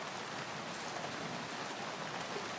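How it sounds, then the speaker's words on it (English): Steady rain falls in Lancaster, California, a soft, even hiss of drops on surfaces, quiet and constant with no voices. "Thank God when it rains like this."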